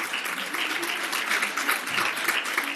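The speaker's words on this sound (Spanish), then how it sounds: "Un fuerte aplauso, por favor, para la compañera." Lively audience applause at a primary school teaching congress, continuous and fairly loud with dense clapping.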